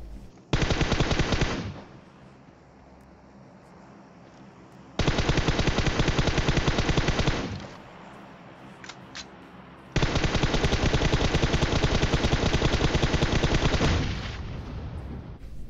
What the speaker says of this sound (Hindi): मैं चालीस गोली लगाता हूँ भैया आधी गोली भी नहीं लगती उसे